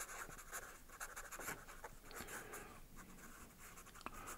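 A pen scratches across paper while sketching a cow, with quiet irregular strokes, short scribbles and longer lines close up, faint and steady with no voices.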